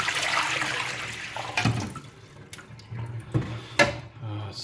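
Water is poured out of a PUR filter pitcher into a sink, coming in a few short gushes and splashes, fairly close and with no talk.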